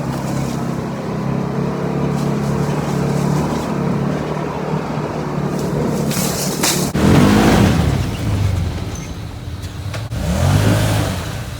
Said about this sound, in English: Now back to off-roading.